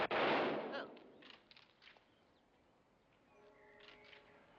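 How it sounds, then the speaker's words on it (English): A single loud rifle volley from a firing squad cracks out at the start and decays into a faint echo, followed by a few weaker distant pops and a quiet tail. "Present arms! Fire! Fire!"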